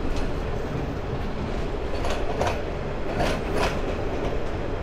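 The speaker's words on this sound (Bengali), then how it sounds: "ট্রেন অল্প সময়ের মধ্যে আবারও স্লো হয়ে যাচ্ছে" The Chattogram University shuttle train runs along the line as it slows toward a station, a steady rumble from inside with rhythmic wheel clicks and occasional brief squeals.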